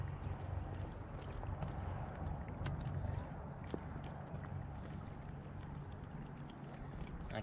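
Minn Kota Endura C2 30 trolling motor running in second gear on a 16.8V lithium-ion battery, a steady low churning hum with water wash, continuous and fairly faint throughout.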